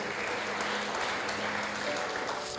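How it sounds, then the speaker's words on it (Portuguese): A church congregation gives a short burst of applause praising the Lord during a sermon, a dense, even wash of clapping lasting a couple of seconds. "Quem recebe esta palavra, aplauda o Senhor"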